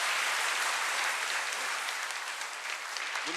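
A church congregation at a Wednesday worship service gives a loud, sustained round of applause in thanks and encouragement, the dense clapping holding steady throughout.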